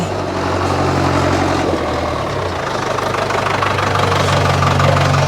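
A farm mowing machine engine runs on an old Swiss farm, a loud, close, steady mechanical drone with a knocking rumble that shifts slightly midway, no talk.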